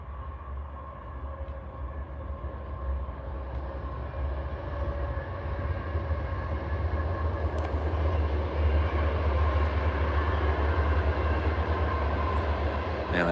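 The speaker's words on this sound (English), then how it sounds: "Man, that train, man, needs to go the fuck away, bro." A train passes nearby with a steady low rumble and rattling wheel noise that slowly builds in loudness over several seconds, continuous throughout with no talk.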